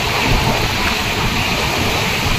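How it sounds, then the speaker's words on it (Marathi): Heavy rain pours steadily outside a Diva–Sawantwadi passenger train near Ratnagiri, a loud, continuous broadband wash blending with the rumble of the moving train. "आता रत्नागिरी येते तो पाऊस आला जोरदार"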